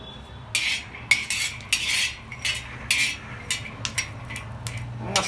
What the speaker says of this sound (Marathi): मस्तपैकी शेंगदाणे भाजायला लागले